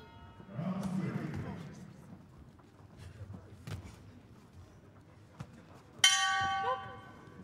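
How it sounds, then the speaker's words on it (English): A boxing bell rings once near the end of a women's 51 kg amateur bout. A bright metallic strike comes over murmuring commentary and hall noise, and its tone rings on for over a second. "Bell goes at the end of the round"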